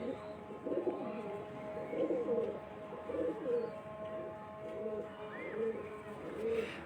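Breeder pigeons coo repeatedly in a loft in Mirpurkhas, a series of soft, rolling low coos at a steady rhythm, fairly close, with a faint steady hum and light background noise.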